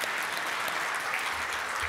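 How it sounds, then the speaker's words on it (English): A short burst of steady clapping from the audience at a Rotary club meeting, dense and moderately loud throughout. "Let's give her a round of applause."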